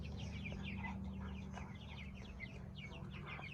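Meat chickens clucking in a group on their first night out of the brooder, with soft repeated clucks and chirps over a steady low hum of farm background noise, moderately distant.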